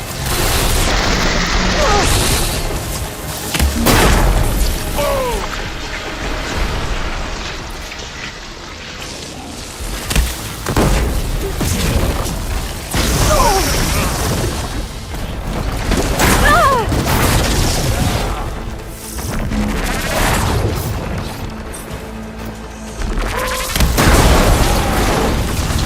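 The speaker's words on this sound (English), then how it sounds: "It's gonna explode!" A loud, booming explosion bursts amid ongoing combat in Horizon Forbidden West, set against a continuous rain-like wash of debris and noise, with character voices calling out around it.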